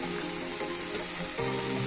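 Khosla greens with mustard paste stirred in a hot pan, a constant close sizzle with faint scraping as the mixture is moved, steady and alone throughout.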